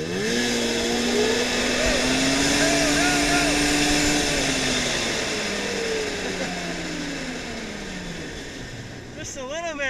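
Prowler engine revving while churning through three feet of deep snow, a loud rising and falling whine with pitch sweeps, continuous and close, with a voice talking over it.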